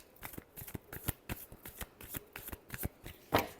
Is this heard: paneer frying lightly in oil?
no